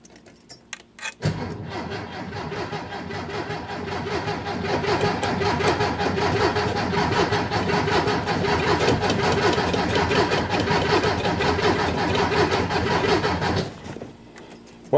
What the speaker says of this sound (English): I'm gonna just be brave and bump the starter.